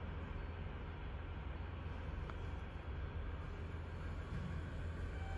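A Kiha 40 series diesel train runs at JR Niitsu station, a steady low rumbling drone with a faint brief clank, distant and alone with no voices.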